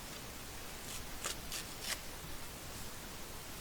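Paper card tearing in short, crisp rips, a few quick bursts of dry tearing over a quiet hiss, close and fairly soft.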